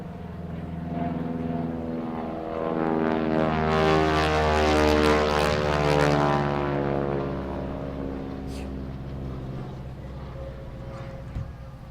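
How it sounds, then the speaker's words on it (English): Propeller aircraft pass overhead in a Memorial Day flyover, a droning engine roar that swells toward the middle and slowly fades away, loud and continuous, with no talk over it. "We'll pause for the flyover."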